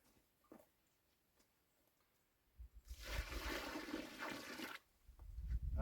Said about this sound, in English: Make the crater, pour the water in